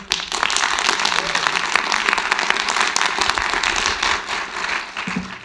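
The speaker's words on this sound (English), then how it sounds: "And can I just get everyone to keep applauding?" Conference audience claps after a talk on open source, a dense burst of applause rising quickly, holding steady, then thinning out near the end.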